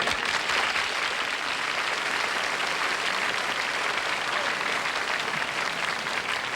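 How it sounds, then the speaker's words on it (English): Studio audience applause on a television variety show, steady and dense throughout, loud and continuous with no break or talk over it. "The applause didn't die down here"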